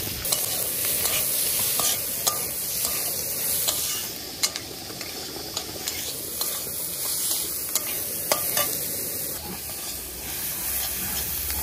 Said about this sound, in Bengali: পেঁয়াজ ভাজা হয়ে যাবে